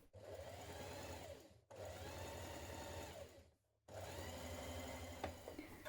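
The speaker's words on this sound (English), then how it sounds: "Now we're going to repeat this stay stitching down the front of our neckline on the V." A sewing machine stay-stitches along a dress neckline in three quick whirring runs, separated by brief pauses, heard up close but at low volume with no talking.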